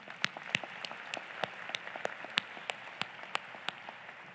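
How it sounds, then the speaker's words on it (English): Scattered, sparse clapping from an audience at a university convocation ceremony, individual claps spaced out rather than a full ovation, moderately quiet in a large hall. "please join me in recognizing our special guests, marshals, and gonfalon bearers with another round of applause"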